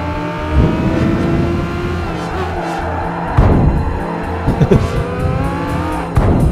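A race car in Gran Turismo 5 at Grand Valley Speedway brakes hard, downshifts with loud revving engine tones and drifts through a turn with sustained tire squeal, heard close and loud throughout.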